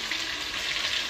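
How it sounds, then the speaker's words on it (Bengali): Beef being reheated in a pan sizzles and fries steadily, a close, continuous hiss with no voices. "গরুর মাংসটা গরম হয়ে গেছে"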